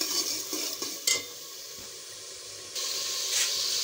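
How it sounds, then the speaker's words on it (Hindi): Onions frying in a pan for Punjabi kadhi pakora give a steady, close sizzling hiss with occasional stirring scrapes, rising slightly in intensity toward the end. "दूसरी साइड से हमारा ये प्याज भून रहा है, प्याज को मैं थोड़ा सा मज़ीद भूनूंगा।"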